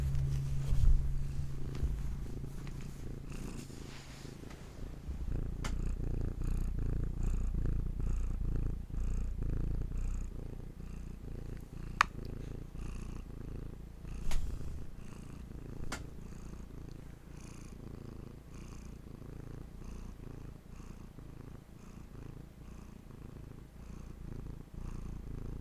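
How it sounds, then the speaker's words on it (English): A pet cat purrs steadily and close up in a low continuous rumble, with a few faint clicks and rustles and no talking. "Hattie, do you have some purrs for us?"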